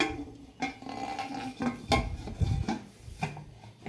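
A pressure cooker's whistle is removed and its lid handled while a healthy cake is being baked. The result is close, light metallic clinks, taps and scraping of metal kitchenware in irregular bursts, with no voice.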